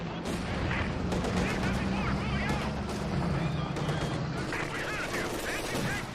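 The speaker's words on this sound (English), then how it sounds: "So we're gonna wait till it shoots, and then we're gonna just shoot it with our mortar." An anti-tank gun and mortar firing in a WWII strategy video game, dense overlapping gunfire and artillery thumps in a continuous loud battle mix, with a voice talking over it.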